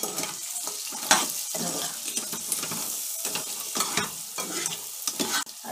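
Crab curry masala is stirred and fried in a pan, with a continuous sizzle under repeated scraping strokes of a spoon, close and fairly loud throughout.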